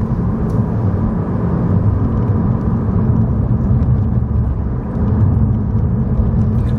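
Loud, steady rumble and whir of car traffic passing close by, a continuous low drone with no voices.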